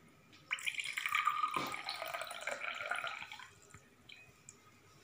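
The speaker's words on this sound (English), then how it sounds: "Now we need to take the clean water into the another glass." Clean water is poured from one glass into another during a classroom decantation demonstration, a single continuous splashing pour lasting a few seconds before trailing off, close and clear with no talking.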